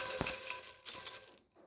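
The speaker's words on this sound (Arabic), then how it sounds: "رح أضيف للطنجرة كاستين من الفول المجروش مغسول ومصفى" Crushed fava beans, washed and drained, poured into a cooking pot, giving two short dry rattling bursts of small hard pieces landing, close and fairly quiet, then silence.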